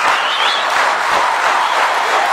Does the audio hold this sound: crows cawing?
no